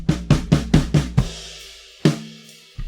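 A drum bus passed through the Sloth saturation plugin by Dark Palace Studio with its rise setting increased: a run of punchy, gritty kick-like hits in quick succession, a ringing sustained hit, then another thump.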